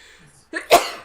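A single sharp human sneeze, with a brief intake of breath just before it, close and loud in a quiet room during a tabletop roleplaying game session.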